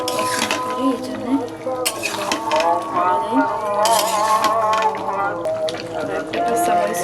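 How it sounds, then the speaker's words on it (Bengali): Fried potatoes being stirred into a chicken curry in a pan, with steady sizzling and the scrape of a spoon against the metal, close up under continuous talk. "আমি যে আলুটা ভেজে রেখেছিলাম এটা এখন জ্বালিয়ে দেবো।"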